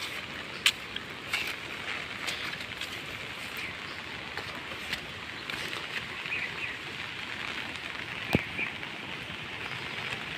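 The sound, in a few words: rain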